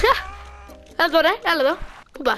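A goat in a video game bleats in several wavering, nasal cries at close range, interleaved with someone talking excitedly over it.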